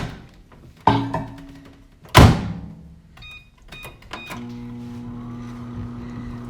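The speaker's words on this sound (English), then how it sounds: "I'm just gonna pop this back into the microwave for like 10 seconds" A microwave oven heating soap base: a thunk and a door slam, a few keypad beeps, then a steady low electrical hum from the running oven.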